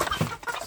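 A short cluck from free-range village chickens, with a rooster among them, heard close and fairly soft in a brief moment.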